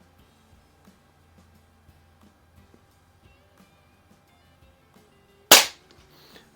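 A single sharp shot from a Crosman 1701P air pistol firing a wadcutter pellet, one loud crack with a quick decay against a quiet room, after a stretch of faint low handling noise.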